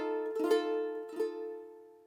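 A ukulele chord strummed without the pinky note: two strums ring out clearly, each letting a bright chord sustain and slowly fade, with no talk.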